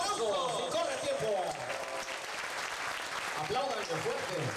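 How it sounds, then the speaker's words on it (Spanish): Audience clapping at a live 2014 concert in Chiautla de Tapia, a steady dense patter of applause running throughout beneath a voice speaking over it. "Y no queremos un minuto de silencio, sino un minuto de aplauso."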